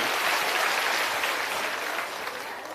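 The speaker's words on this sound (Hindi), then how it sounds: "एक बार जोरदार ताली बजाइए" An audience at a village school rally in Triveniganj claps loudly, a dense, steady burst of applause that fades slightly toward the end.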